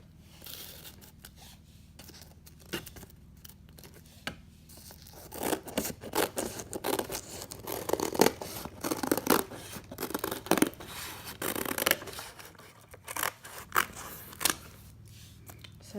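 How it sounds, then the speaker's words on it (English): Scissors snip around the edges of a paper template, with crisp repeated cuts coming in irregular bursts, close up, along with rustling and crinkling as the paper is handled. No one talks. "just cut this out, or cut around the edges with some scissors first"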